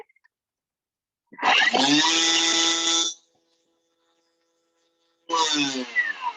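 A motorized food processor chopping ginger and garlic whirs loudly in two bursts, about two seconds and then a second shorter run, with silence between.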